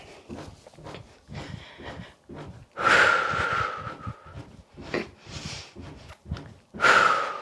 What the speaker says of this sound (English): Breathing in and out or marching.